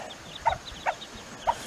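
A late-season-hatched bantam hen gives three short, soft clucks spaced roughly evenly, quiet against a faint outdoor background.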